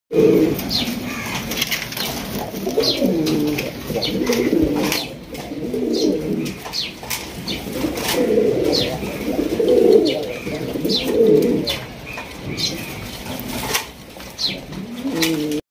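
Pigeons coo repeatedly at a pigeon sale, with Spanish Gorgori Border birds among them. The soft, rolling coos come in steady overlapping bursts with occasional wing flaps, while people talk nearby.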